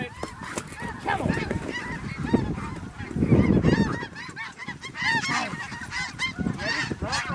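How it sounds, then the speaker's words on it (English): A flock of snow geese honks in flight during a goose hunt, a dense, continuous chorus of overlapping calls that stays loud throughout, with a few louder surges. "Snow geese coming left. Snow geese."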